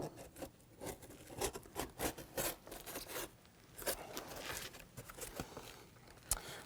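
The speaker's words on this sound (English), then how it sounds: "So I'm going to trim the tape away, just kind of create a little, cut that tape right along the perimeter." A knife trims tape along the edge of seat foam in quiet, irregular strokes of soft scraping and tearing, with small rustles and taps between them, close and faint.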